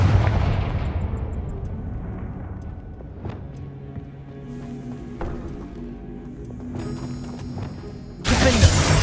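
A Confringo fire spell exploding in Hogwarts Legacy, an opening boom that fades into rumble, followed by scattered impacts and a second sharp loud blast near the end amid combat sounds.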